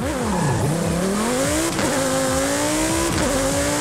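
A Ford car does a launch-control start in the Forza Horizon racing game, its engine revving loudly and climbing in pitch, with two quick gear shifts that drop the pitch briefly before it rises again, alone and continuous.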